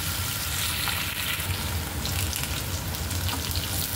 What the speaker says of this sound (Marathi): नंतर मग फोडणी टाकायची.